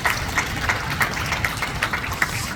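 A church worship audience at Seoul Hanyoung University claps together in steady, rhythmic applause. The sharp claps repeat at close, regular intervals over a low background hum.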